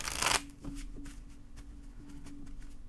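Tarot cards shuffled by hand: a brief, dense riffle followed by softer taps and card slaps, close and quiet with no talking.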